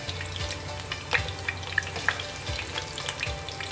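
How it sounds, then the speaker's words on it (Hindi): Koftas frying in hot oil give a steady close sizzle with light crackles and a few sharp pops, with no voices over it. "हम इन कोफ्तों को पहले एक साइड से फ्राई करेंगे"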